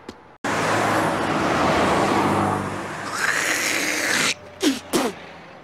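Cars rush past on a road in a loud, continuous roadway roar that swells and fades as each vehicle goes by, followed by a couple of short, separate whooshes near the end.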